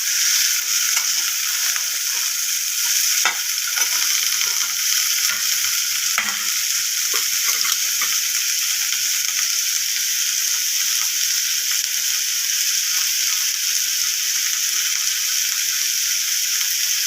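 Sliced onions frying in oil for Bengali alu chokha, a bright, steady hiss and crackle of hot oil running unbroken throughout, with occasional faint scrapes and clicks from stirring.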